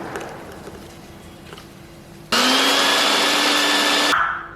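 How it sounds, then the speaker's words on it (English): A small blender grinds ajwain, fennel, cumin and green chilies, switching on abruptly with a loud, steady whirring roar that holds for nearly two seconds before cutting off. "blend them in a small blender"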